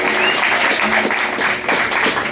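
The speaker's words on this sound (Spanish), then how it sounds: "Por favor, dense un aplauso a ustedes por estar acá." Audience applause at an acoustic concert by a rock band, a full, steady clapping from a large crowd that fills the whole moment.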